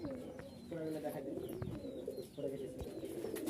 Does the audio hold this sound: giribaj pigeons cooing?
yes